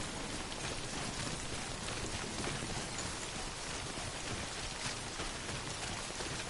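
Steady rain pours in the video game Death Stranding as a dense, even hiss that keeps on without a break.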